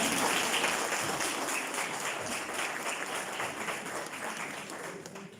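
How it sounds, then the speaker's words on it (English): A room full of people at a year-end mentorship function applauds for a recent graduate, a thick burst of clapping that starts loud and gradually fades over several seconds. "can you please give her a round of applause?"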